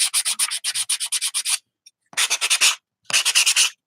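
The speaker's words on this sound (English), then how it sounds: "I'm going to sand them. I got this block from Home Depot." Hand sanding with a sanding block bought at Home Depot, smoothing rough ridges on a homemade snowman ornament: quick rhythmic back-and-forth rasping strokes, close and fairly loud, in three bursts separated by short pauses.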